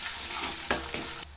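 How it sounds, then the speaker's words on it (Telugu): Ginger paste hits golden-brown fried onions in a pan for tomato egg curry, a short close sizzle with a couple of quick stirring scrapes before it cuts off. "ఇందులోకి అయితే జింజర్ పేస్ట్ వేసుకుంటున్నాను"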